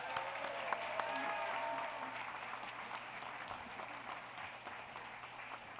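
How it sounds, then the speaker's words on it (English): Applause for the professors at a university commencement ceremony, a broad, distant crowd clapping steadily for nearly six seconds, with a faint voice briefly heard over it. "Let's give them all a round of applause"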